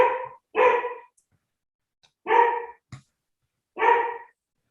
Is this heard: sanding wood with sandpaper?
no